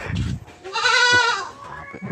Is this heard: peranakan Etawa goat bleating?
yes